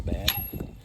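Socket ratchet working a spark plug loose on a Husqvarna M-ZT 61 zero-turn lawn mower, a brief close metallic clicking and grinding of the pawl.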